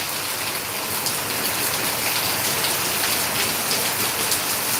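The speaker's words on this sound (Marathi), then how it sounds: "खूप क्षमतेनं पाऊस सुरू आहे" Heavy rain pours down in a dense, steady hiss, drumming on surfaces close by without pause, in Degloor, Maharashtra.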